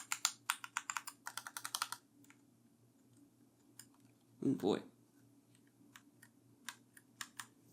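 Keys clacking on several computer keyboards, a Logitech G810 among them, one with a tinny enter key and space bar and a crunchy feel after a beer spill; dense bursts of typing, then a louder thump, then scattered single keystrokes, with a brief spoken exclamation.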